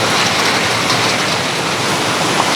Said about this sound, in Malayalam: നല്ല മഴയായി, നല്ല മഴയായി.